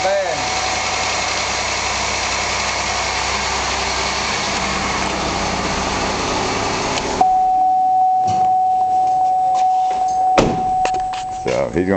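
A home-repaired car's engine runs and idles with a steady, dense drone for several seconds before the sound shifts to a quieter hum carrying a sustained whine and a few knocks.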